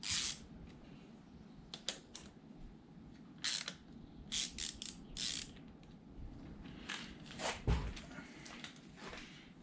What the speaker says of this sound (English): we need what's that? A Torx 27 to take this cover off